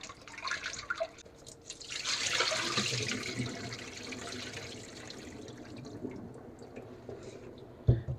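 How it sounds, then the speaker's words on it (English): Deveined shrimp being rinsed with water and lime juice in a sink: a steady wash of running, splashing water with drips, moderately close, with a brief knock near the end and no talk. "Gonna rinse them a second time"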